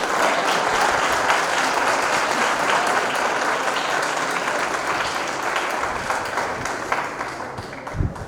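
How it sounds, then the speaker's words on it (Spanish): Sustained audience applause at a law conference on the rule of law and corruption, a dense steady wash of many hands from a large room that thins slightly toward the end, with no talk over it. "Fuerte aplauso para dar inicio con esta segunda jornada."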